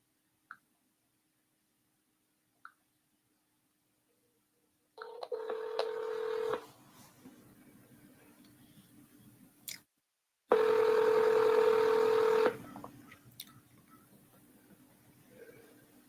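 Telephone line tones sound during a call-in radio show: two sustained electronic tone bursts, each lasting about two seconds, separated by quiet line noise and a few soft clicks.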